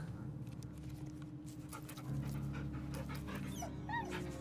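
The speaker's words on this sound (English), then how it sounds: "Time to pet Scratch's dog. tail wags enthusiastically. Pet the dog." A dog in the video game Baldur's Gate pants steadily while being petted, with a few high whimpering squeaks near the end over a constant low background hum.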